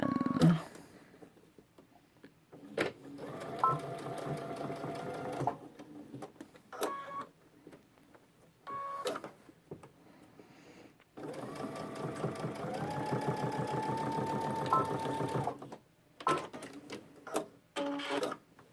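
Bursts of a sewing machine stitching backpack side panels, a rapid mechanical whir in several runs of varying length separated by quiet pauses and small handling clicks.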